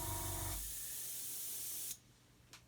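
An aerosol spray can mists thin paint onto a miniature: a steady, close hiss runs for about a second and a half, cuts off sharply, then a brief short puff follows.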